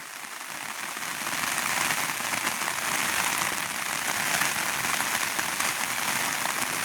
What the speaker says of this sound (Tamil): இன்றைக்கு வந்து சரியான மழை பாருங்கள் எப்படி இருக்கின்ற தோட்டமெல்லாம் இணைச்சி பார்க்க இல்லாத அளவுக்கு மழை இன்றைக்கு